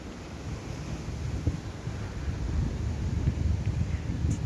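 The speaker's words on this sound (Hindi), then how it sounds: "अच्छी खासी हवा चल रही है।" Strong wind blows outdoors near buildings in Cerdanyola del Vallès, a steady low rumbling roar buffeting the microphone, growing slightly louder toward the end.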